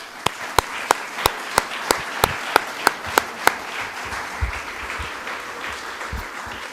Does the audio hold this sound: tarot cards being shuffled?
no